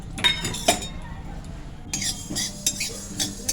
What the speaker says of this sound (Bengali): কড়াই গরম হয়ে গেছে এখানে আমি শুধু সর্ষে ভেজে নিচ্ছি